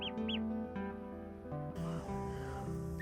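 A duckling still inside its egg gives several short, faint peeping calls, clustered near the start and again near the end, over a steady background hum.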